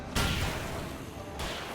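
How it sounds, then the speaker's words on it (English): An explosion in the video game Alan Wake, strong enough to knock a 2x4 off a pallet: a sudden loud burst followed by a sustained rough rumble that cuts off, then a second blast at the end. "Man, that explosion was so rough it knocked a 2x4 off of a pallet"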